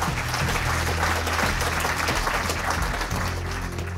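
An audience at a folk song competition claps loudly and steadily throughout, a dense sustained round of applause with a low musical hum underneath.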